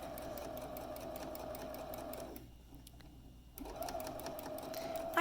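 A sewing machine runs steadily on a fabric drawstring bag with a high, even whir, stops briefly for about a second, then resumes at a quiet, close level.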